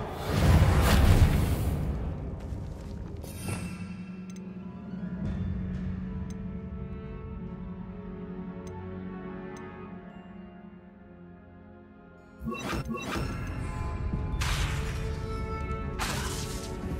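A whooshing crash and a sustained shimmering hum from the Reparo repair spell in Hogwarts Legacy, followed by sharp magical bursts and swishes toward the end.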